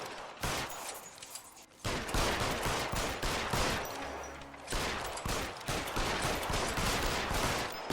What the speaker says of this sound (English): Let me shoot at all the signs first.